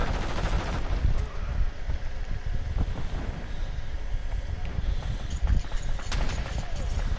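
M4 rifle fired on semi-auto in the video game Modern Warfare 2, with shots spread through a steady roar of wind-like noise that largely masks them.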